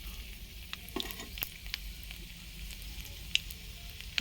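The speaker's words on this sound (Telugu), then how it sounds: "కళాయి పెట్టి ఆయిల్ పోసాను ఇప్పుడైతే కోపు పెట్టుకున్నాం కోపు గింజలు అయితే వేసుకున్నాం" Seeds sizzling in hot oil in a kadai for tempering, a steady quiet hiss with scattered small pops and crackles close by, heard alone without talk.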